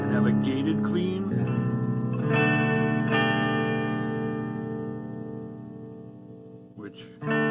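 An electric guitar plays a gated clean tone, amp distortion switched off, through a Donner White Tape stereo analog delay pedal; sustained chords ring out with echoing repeats that fade, then a fresh strum enters near the end.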